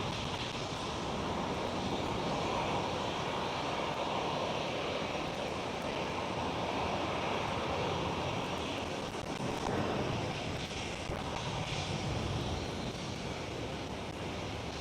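A KLM Boeing 777-200 departs Schiphol Airport, Amsterdam, with a continuous broad jet roar, wind-like and steady at moderate loudness for the whole stretch, and no voices.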